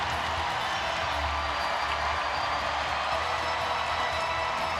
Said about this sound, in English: Crowd sure likes it. We got a little bit of noise in the building.